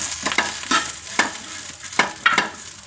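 Brinjal (eggplant) roasting in oil in a pan, a steady crackling sizzle broken by several sharp stirring scrapes at irregular intervals, close and fairly loud, with no voices.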